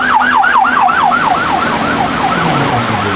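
A loud wailing ambulance siren sweeps up and down steadily, its pitch dropping and growing fainter as it moves away.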